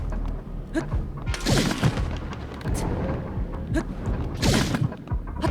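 Enemy gunfire in Zelda: Tears of the Kingdom, heavy booming shots and thuds arriving in two loud bursts over a constant rumbling game soundtrack.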